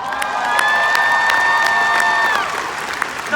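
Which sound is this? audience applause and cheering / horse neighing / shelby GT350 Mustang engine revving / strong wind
audience applause and cheering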